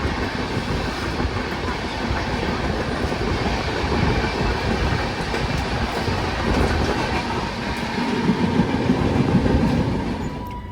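Inside a non-AC coach of the Darshan Express passenger train, a loud continuous rumble of wheels and carriage rattle fills the space, steady and close with faint rhythmic clatter rising slightly toward the end.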